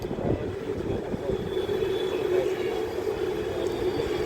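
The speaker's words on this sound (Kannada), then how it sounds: "ಮೆಟ್ರೋ ಬಂತು." A metro train arrives, a steady low rumble and rolling rail noise at moderate distance throughout, with no talk over it.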